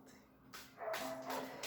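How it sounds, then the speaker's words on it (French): A big dog barking off to one side of a quiet indoor space, a few short barks and yips coming in bursts, moderately distant and fairly soft, with no talk over them. "Il y a un gros pitou qui jappe dans le côté."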